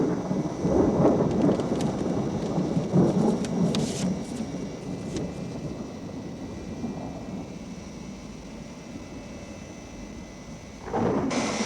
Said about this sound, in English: Is this storm likely to get any worse?